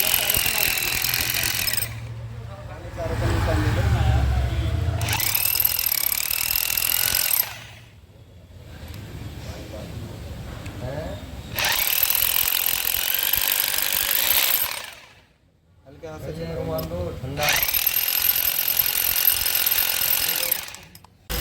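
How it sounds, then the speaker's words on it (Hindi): Hammer drill boring into a concrete floor to fix a boom barrier in place, loud grinding bursts of a few seconds each, separated by short pauses. "इसलिए ड्रिल मशीन से 4 निशान पहले गहरे निशान बना लेते हैं, और उसके बाद इस तरह से ड्रिलिंग की जाती है"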